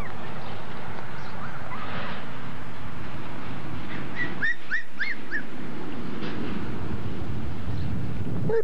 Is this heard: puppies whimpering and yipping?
yes